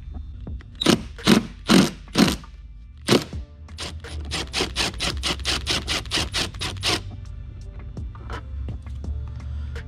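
A Milwaukee power gun with a Torx bit backs bolts out of the DME cover on a 2001 BMW, first as several loud separate bursts, then as a fast run of short rattling pulses at close range.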